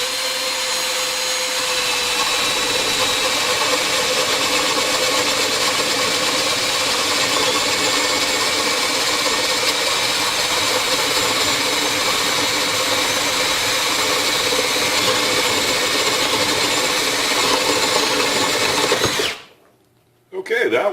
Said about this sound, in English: we're going to be drilling through some 2x4 lumber.